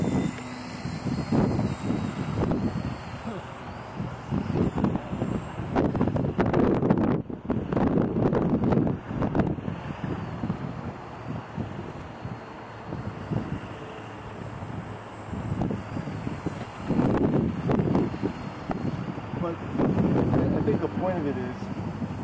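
A Blade Nano RC helicopter flies at a crash demonstration, its thin, high motor whine running steadily beneath heavy outdoor wind buffeting and people talking throughout.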